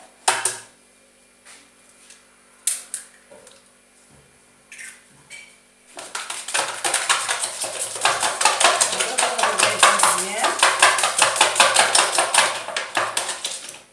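Eggs cracked into a bowl, with a few sharp isolated taps and clinks, then loud, fast, continuous whisking as the eggs are beaten against the bowl. Close and steady, with no talk.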